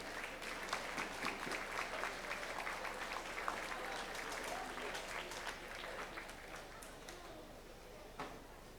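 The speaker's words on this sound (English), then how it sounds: "would you please give a round of applause" Steady applause from a crowd at a championship dog show ring, continuous and fairly even throughout, with scattered louder claps near the end.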